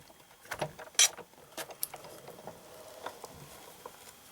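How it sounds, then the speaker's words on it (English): A hand-cranked die cut machine presses a sheet of pewter folded inside burlap to texture it, giving scattered soft clicks, rustles and gear-like ratcheting at close range with no talking. "I'm going to run it through a die cut machine so that I can texture it."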